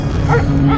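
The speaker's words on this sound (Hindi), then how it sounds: "उसके उठने के बाद वहां दूर से एक कुत्ता उस पर भौंक रहा था।" A dog barks in a horror cartoon, a single short bark with a whimpering tone, heard close and clear with nothing else around it.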